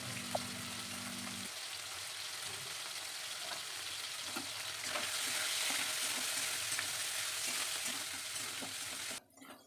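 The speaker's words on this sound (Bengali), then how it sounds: "তেল গরম হয়ে গেছে, এখন চিকেনটা একটু হালকা করে ভেজে নেব।" Chicken pieces frying in hot oil in a kadai, a close, crackling sizzle with stirring scrapes and pops, swelling louder midway before cutting off abruptly.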